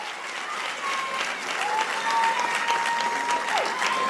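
Audience applauding at a high school sports awards ceremony, a sustained wash of clapping that swells slightly midway, with a faint whistle-like tone gliding above the crowd.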